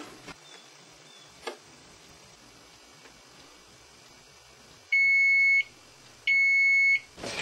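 Two loud, steady electronic beeps from a kitchen timer being set while a pizza bakes, each lasting about half a second and separated by a short pause, over a quiet room.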